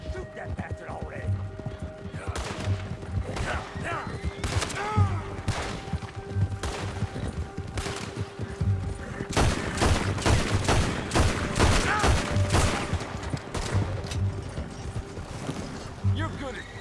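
Gunfire in the video game Red Dead Redemption 2, a loud burst of rapid overlapping shots clustered in the middle, with horse hooves clopping and game voices talking at other moments.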